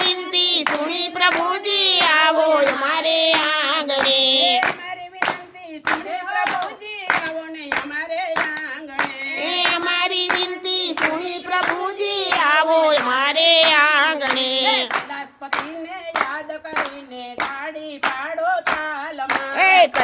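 Steady rhythmic hand clapping keeps time with a devotional kirtan group singing a Mahadev bhajan, sharp claps landing evenly and loud beneath the continuous vocals throughout.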